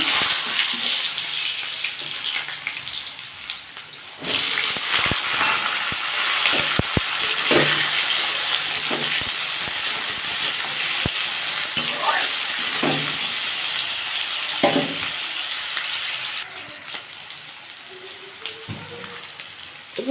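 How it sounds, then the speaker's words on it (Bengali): Potatoes frying in oil in a kadai tempered with nigella seeds and dried chili, a steady crackling sizzle with scattered stirring knocks and clatters, fairly close and even. "এবার আমি আলুটা ছেড়ে দেবো ভাজার জন্য"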